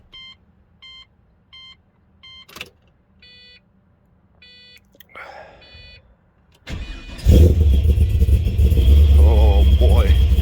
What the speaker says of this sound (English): We're gonna do a cold start.